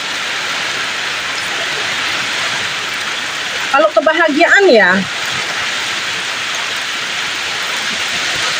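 Steady rain falls throughout, a dense, even hiss close by, with a voice speaking briefly in the middle over the downpour.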